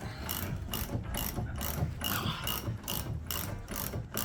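Hand ratchet working a front suspension bush nut on a car, a steady run of close clicking pawl strokes repeating rhythmically for several seconds with no talk.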